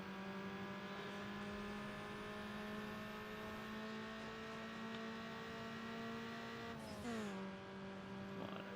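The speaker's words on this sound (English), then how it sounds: "So car's just gonna over rev on every single upshift" A car engine in the Need For Speed Underground racing game holds a steady high-pitched drone while over-revving, then dips in pitch at an upshift near the end with a brief mechanical shift noise.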